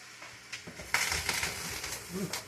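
Tomatoes tipped into a ratatouille pan make a dense rustling crunch that swells in a loud burst partway through, followed by softer shuffling and settling.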